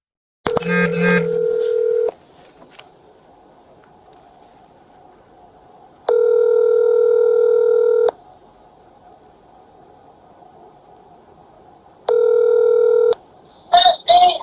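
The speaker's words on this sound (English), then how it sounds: "Officers were able to obtain Mackenzie's phone number and attempted to contact her about the incident." Ringback tone on an outgoing police call to a phone number: loud, steady two-second purrs repeating about every six seconds with near silence between, ending in a brief clatter as the line picks up.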